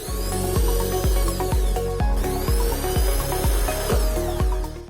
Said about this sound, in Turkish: Şimdi oralara kılavuz için Direkt vidanın tam oturması için ufak delikler açacağım.